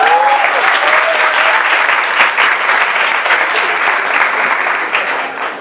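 An audience at a talk on art and colour gives steady, loud applause for a realist painter and engraver being introduced, many hands clapping evenly before the sound tapers at the end.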